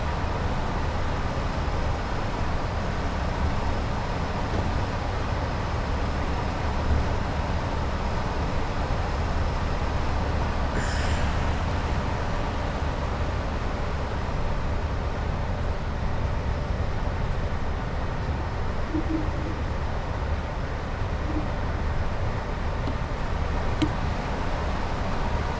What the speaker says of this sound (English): Passing another train in third rails.